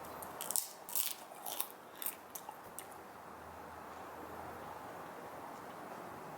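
Sour Japanese sherbet candy fizzing with bicarb soda is chewed close to the mouth, giving a burst of crunchy, wet bites in the first few seconds before fading into quiet background hiss.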